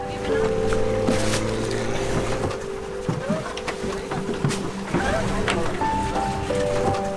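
A wooden boat's engine drones steadily with water noise around it at sea near Koh Lipe, Thailand, while people talk faintly in the background.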